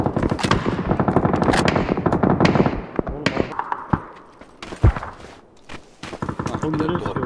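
Rapid automatic gunfire in PUBG rattles in long bursts, then gives way to scattered single shots and a sharp nearby crack before more firing resumes, while players talk over it.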